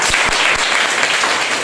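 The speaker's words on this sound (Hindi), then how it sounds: "जोरदार एक ताली बजाइए।" A church congregation claps together during a Sunday service, a dense burst of applause that fills the whole short moment at steady, close volume.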